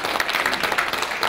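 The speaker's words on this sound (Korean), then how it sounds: "박수로 환영해 주시기 바랍니다." A brief burst of dense, steady audience applause welcomes a speaker at an indoor report meeting, filling the whole moment.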